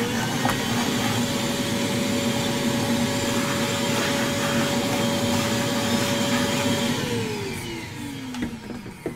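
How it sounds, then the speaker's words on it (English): A vacuum cleaner sucks up debris with a loud, steady motor whine held close for several seconds, then the pitch falls away as it switches off and spins down. "me vacuum this up real quick"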